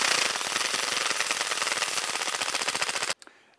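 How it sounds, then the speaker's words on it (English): A cheap Ryobi impact wrench hammers on tyre wheel nuts in a fast, loud, rattling burst lasting about three seconds, then cuts off abruptly, leaving a couple of small clicks and quiet. "Impact wrenches for tires."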